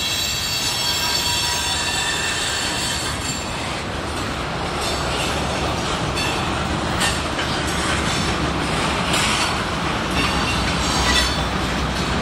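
A Union Pacific train rolls through switches while a BNSF intermodal train passes on the adjacent track, making loud continuous rail rumble with squealing wheels and clattering throughout.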